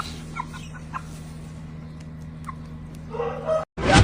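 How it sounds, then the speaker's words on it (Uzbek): Young chicks hatched in April, heard as a few scattered soft clucks and peeps over a steady low hum, ending with a louder burst of noise. "16-aprelda chiqqan jo'jalar."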